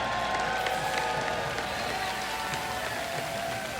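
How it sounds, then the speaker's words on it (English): A large esports arena crowd at IEM 2015 San Jose claps and cheers for League of Legends champions Origen, a dense, steady roar of applause and shouting that fills the whole stretch without letting up. "put your hands together for our champions"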